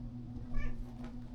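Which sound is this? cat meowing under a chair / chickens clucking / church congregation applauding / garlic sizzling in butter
cat meowing under a chair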